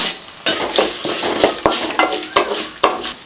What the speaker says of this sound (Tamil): இப்போ மல்லி பாதி வறுபட்டுருச்சுங்க இப்போ சோம்பு சீரகம் சேர்த்துக்கலாம்